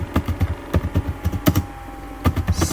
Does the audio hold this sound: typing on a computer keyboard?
yes